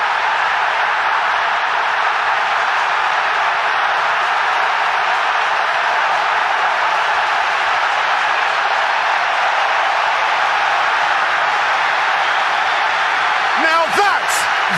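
A packed Old Trafford football crowd roars after a goal at a Manchester United match. The loud, unbroken wall of cheering holds for about fifteen seconds.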